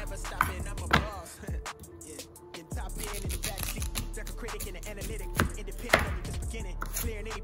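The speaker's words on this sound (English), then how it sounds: "Now here we are cutting our onions so that we can put that with our sweet potatoes" Knife chopping onions and sweet potatoes on a cutting board, a series of close, sharp irregular thuds and taps over a low steady background hum.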